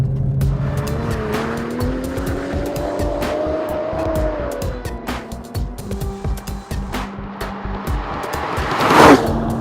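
A Volvo S60 Polestar with a tuned, transversely mounted V6 of over 500 horsepower drifts in snow, its engine revving in rising, wavering pitch while tires squeal and skid, ending in a louder rushing burst.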